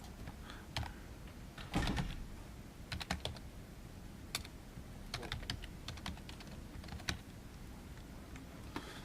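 Typing on a computer keyboard in a quiet room, with scattered soft key clicks, a few quick bursts and isolated taps, fairly close and light, with no talking.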